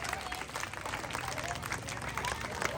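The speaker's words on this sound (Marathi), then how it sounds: "एकदा शिवाजी भाऊंसाठी हात वरती करून सगळ्यांनी जोरात टाळ्या वाजवायच्या" A crowd at a Bhim Jayanti celebration applauding in a steady, dense patter with voices mixed in, heard at a moderate distance and somewhat muffled.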